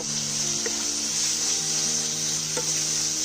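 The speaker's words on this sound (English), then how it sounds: "The masala has to be fried on a medium heat." Masala with coriander powder fries over medium heat in a pan, giving a steady, close sizzle with faint stirring scrapes and a low hum running underneath.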